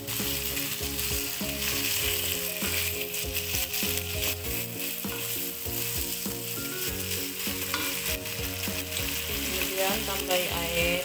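Goat liver fries with spices while being stirred, a constant close sizzle with scraping strokes running beneath steady background music.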